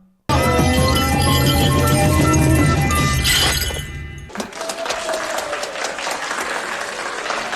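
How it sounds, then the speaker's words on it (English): Applause at a screening of the film Time Bandits: a loud burst of clapping that cuts in suddenly and holds steady, then drops away into a quieter stretch of shuffling and faint clinks. "Don't clap."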